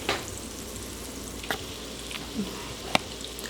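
Salmon patties fry in a pan, browning to a golden crust, with a steady low sizzle and a few soft clicks and taps of a utensil against the pan.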